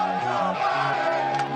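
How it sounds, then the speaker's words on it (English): A crowd chants "let's go Brandon" in a loud, rhythmic, tonal cadence that fills the short stretch. "as you can hear the chants from the crowd"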